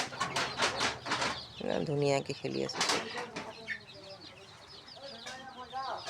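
Chickens on a poultry farm dealing with rodents and coryza, short clucks and rustling wing sounds up close, mixed with a person talking over them.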